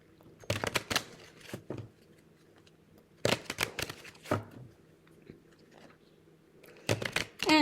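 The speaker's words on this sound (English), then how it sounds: "Let me give the Lenormand a shuffle here." A deck of Lenormand fortune-telling cards is shuffled close up in a quiet room, with short bursts of riffling and papery slaps separated by silent pauses.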